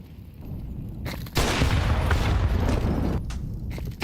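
Grenade explosions in Counter-Strike: a heavy, loud blast erupts and rumbles for a couple of seconds, preceded by lighter gunfire and game ambience.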